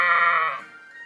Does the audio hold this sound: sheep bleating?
yes